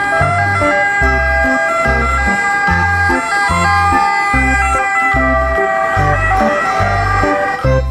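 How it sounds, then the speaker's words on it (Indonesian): A toy ambulance siren wails in a steady repeating two-tone pattern, loud and close, continuing without pause. "Yang ini ada mobil ambulans."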